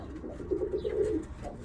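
Young Birmingham Roller pigeon squeakers on a loft floor give soft, low cooing, a close murmuring burst in the middle with quieter coos around it, and no talking.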